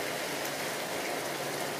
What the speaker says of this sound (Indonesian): Lihat suasana hujan di jendela. Ternyata masih hujan